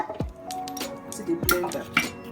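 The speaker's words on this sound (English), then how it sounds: "So I'm going to be scraping the ginger." Fresh ginger root being scraped ahead of blending for Nigerian party jollof rice, a series of close scraping and clinking strokes against kitchenware at an uneven rhythm, with no talking.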